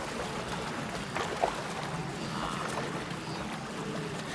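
Gentle shallow river water flows and splashes as wildebeest wade across, with a soft continuous trickling wash and one brief splash.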